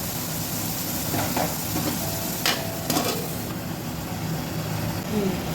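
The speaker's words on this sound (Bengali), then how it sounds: "তার জন্য আমি একটু চাপা দিই যাতে টমেটোটা সিদ্ধ হয়ে যায়" Tomato cooking in a covered pan for a fish curry, a steady low sizzle and bubbling simmer with a couple of brief clinks from the pan, continuous and moderately close.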